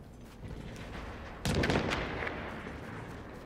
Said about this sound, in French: On va jeter une grenade.